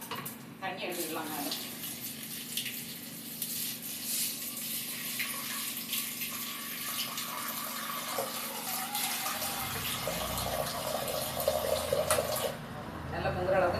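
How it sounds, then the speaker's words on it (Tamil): Water pours steadily over roasted green gram in a kitchen vessel, a continuous close rushing stream that shifts in tone as the vessel fills. "நல்லா முங்குற அளவுக்கு தண்ணி எடுத்துக்கோங்க."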